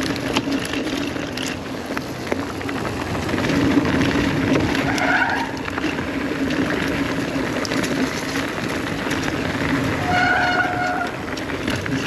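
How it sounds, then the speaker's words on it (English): Brakes squeal on the Gravity Falls roller coaster at River Mountain Park in Little Rock, Arkansas, with high-pitched whines rising over a continuous rumbling roar of the ride, mostly midway and near the end. "Squeaky brakes!"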